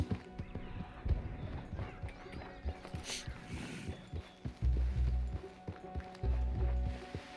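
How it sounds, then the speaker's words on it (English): Horse hooves clip-clop in a steady walking rhythm in Red Dead Redemption 2, moderately close, with a few heavier thuds and faint background sounds. "Tem um cavalo ali."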